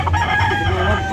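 Close and loud, a bull stag rooster crows at a crowded gamefowl market in Lipa City, Batangas, a single sustained call over low background murmur.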